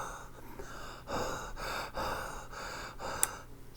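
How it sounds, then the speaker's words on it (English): Several breathy puffs of air blown onto a thermostat's humidity sensor, a few soft rushing bursts in a row, close and moderately quiet, with no talking. "I'm blowing my breath here."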